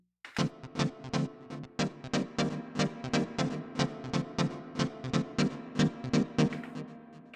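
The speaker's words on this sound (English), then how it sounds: "I'll add some delay and reverb too." Rhythmic synth stabs from a Yamaha RS7000 repeat with echoing delay and a washy reverb tail filling the gaps, creating a sustained, blurred pulse at steady loudness.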